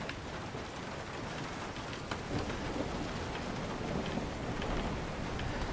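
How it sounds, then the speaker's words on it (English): Steady heavy rain pours continuously with a low rumble of thunder beneath it, dense and close, with no voices, in the video game Resident Evil 7 Biohazard. "Of course it's raining."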